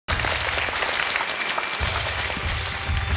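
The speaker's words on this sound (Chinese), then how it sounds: "来，掌声欢迎，掌声欢迎。" Audience applause welcoming a singer onto a Chinese TV talent show stage, a steady dense clapping that starts abruptly and carries on loudly to the end with no talking.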